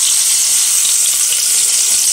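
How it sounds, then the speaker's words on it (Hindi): Turmeric masala frying in oil with fenugreek seeds, bay leaf and cardamom, a loud close continuous hissing sizzle without pause or voices. "इसे अच्छी तरीके से भूनना है, बहुत ही अच्छी तरीके से।"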